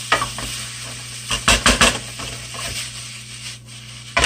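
Cooked rice warming in a pan, a continuous sizzle under scraping and stirring strokes, with a few sharper clatters of the utensil against the pan, close and with no talking.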